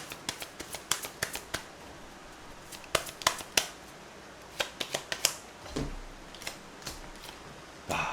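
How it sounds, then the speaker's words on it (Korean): Tarot cards drawn and shuffled close up, a quiet run of sharp papery snaps and flicks in uneven bursts, with soft rustling between them and no talking. "그리고 조언 카드 한번 뽑아봅시다"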